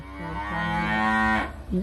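A single long, loud moo from cattle on a Charolais and Brahman cattle farm, close by and rising slightly before cutting off, with a second call starting at the end.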